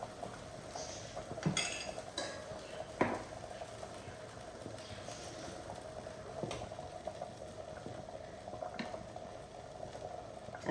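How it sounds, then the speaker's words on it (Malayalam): A pot of radish sambar simmers with a soft, steady bubbling, broken by a few sharp clinks of utensils against the pot. "അങ്ങനെ തിളച്ചു."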